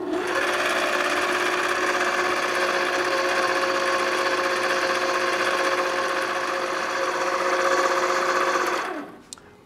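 A stand mixer creams walnut pie filling on its lowest setting, giving a steady motor whir that runs near and loud without a break for about nine seconds, then winds down and stops.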